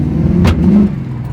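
A 1979 car engine revs hard while driving on rural roads, a loud, close throaty roar that surges briefly before easing off, with no talking.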